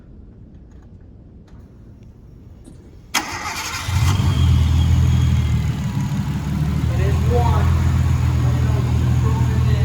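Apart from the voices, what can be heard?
car engine revving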